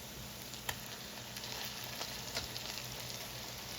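Zucchini tots frying in hot oil, a soft continuous sizzle with a few faint clicks as they are flipped in the pan, close but quiet.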